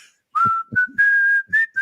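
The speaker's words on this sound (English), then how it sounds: "the high one, the really high whistle" A person whistles a sustained high note in several bursts, the pitch steady and bright, with a few brief low vocal noises between the phrases.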